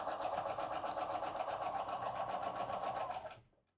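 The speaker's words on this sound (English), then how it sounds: "So we are just focusing on sewing a straight line." A sewing machine stitches a straight line along quilt strip sets, its needle beating a rapid, even mechanical rhythm close by, then stopping abruptly just before the end.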